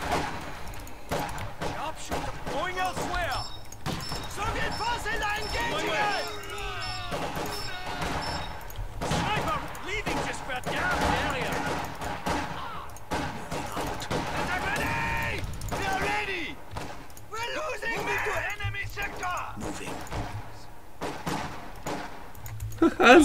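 Battle gunfire in Company of Heroes 2 as a sniper operates behind enemy lines: scattered shots and bursts crackle steadily beneath frequent talking, with thuds and impacts throughout.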